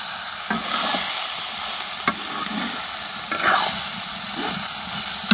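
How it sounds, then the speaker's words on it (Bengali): Soybean chunks with a pinch of turmeric and salt sizzle in a pan while being stirred, a steady frying hiss broken by scraping spoon strokes and a few sharp clicks. "এখন আমি সোয়াবিনটা ভেজে নিব"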